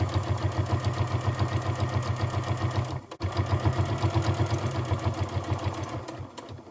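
Sewing machine stitching quilt binding with blue thread, a steady mechanical whir with a fast rhythmic pulse, close and continuous, briefly pausing midway before running on.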